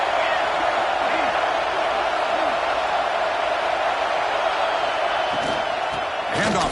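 A stadium crowd at an American football game, roaring on a third-down play, sends up a dense, steady wash of cheering that stays loud and unbroken throughout, with a few sharper shouts rising near the end.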